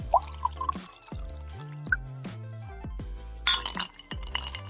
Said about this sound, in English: Pour you a drink.